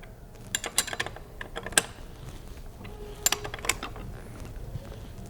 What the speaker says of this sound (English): Tighten that back down with hand and use your 17mm wrench to tighten it all the way back down.